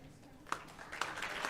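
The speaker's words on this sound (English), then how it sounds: "Maybe 3 claps." About three scattered hand claps from an audience at a high school senior awards ceremony, faint and sparse against a quiet hall, with a soft murmur between them.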